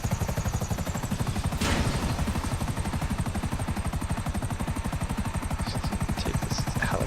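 A helicopter in GTA 5 Online gives a loud, steady rotor chop that beats evenly the whole time, with a short burst of noise near the start and no talking.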